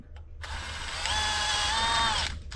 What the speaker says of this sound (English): Try to drill them as straight as you can.